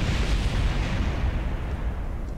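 A rocket fires during a launch in a video game, giving a loud, continuous roaring rumble with heavy low-end that holds steady for the whole stretch without talk.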